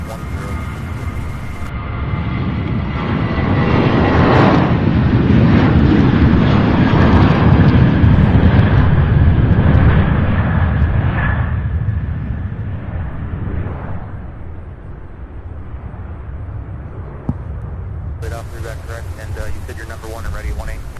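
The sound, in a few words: American Airlines Boeing 737 jet departing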